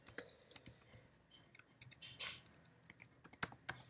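A kubectl command is typed on a computer keyboard, a quiet, irregular run of close key clicks with a brief busier burst in the middle, no voices.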